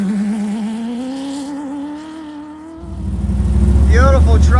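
An off-road race truck qualifying for a desert race on a dry lake bed roars as its engine revs up loudly and close at the end, after a stretch of commentator talk over a lower engine hum.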